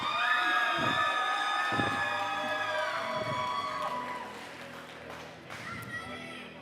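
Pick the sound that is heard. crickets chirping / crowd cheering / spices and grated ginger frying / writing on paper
crowd cheering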